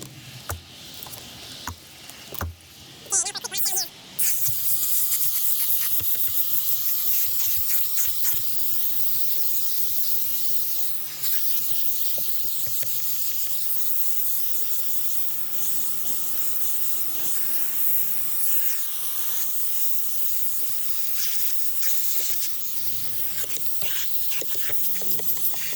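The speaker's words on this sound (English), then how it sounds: "I'm struggling here because I'm fighting my steam cleaner using the wrong attachment." A steam cleaner sprays and hisses continuously while a 2006 Toyota Tacoma is detailed, with a few sharp bursts and knocks at the start before a long, steady, close hiss with light scraping and patter.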